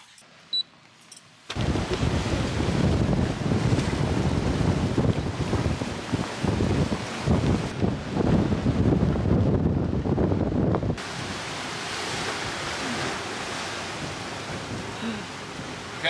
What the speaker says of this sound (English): Pretty windy, which is good because we're experiencing and practicing in good conditions.